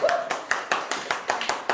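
A sixth-grade classroom at an Indonesian primary school claps in unison for a student group, about eight sharp, evenly spaced claps in a quick rhythm, fairly close, with a brief voice at the start.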